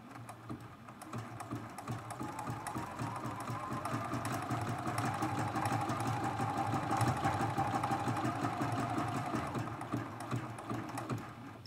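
A sewing machine runs a zigzag stitch in a long unbroken run, its rapid rhythmic needle chatter and motor hum steady and close for nearly twelve seconds.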